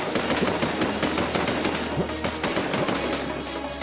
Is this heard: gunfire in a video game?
yes